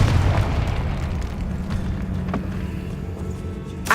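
A Confringo spell detonates in Hogwarts Legacy, a deep booming blast that rolls out and then settles into a low rumbling tail, with a small pop near the end.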